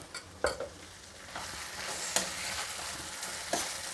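Spatula stirring moong dal and soaked poha usli in a pan, a few distinct scraping clicks and soft stirring scuffs over a low, steady sizzle, close and fairly quiet with no talking.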